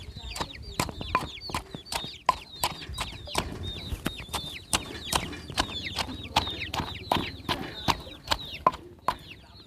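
Chickens cluck steadily at feeding time, many sharp repeated calls close by in a quick uneven rhythm, with occasional faint voices of a person calling the flock.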